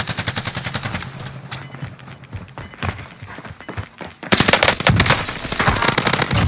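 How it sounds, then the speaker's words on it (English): Full-auto gunfire from a Welgun in Call of Duty Warzone, Rebirth Island: sustained rapid bursts of shots, close and loud, growing denser and louder toward the end, with no talk. "It's full auto, kid."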